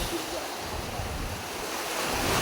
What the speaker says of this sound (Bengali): একটু দেখেন কি পরিমাণ বাতাস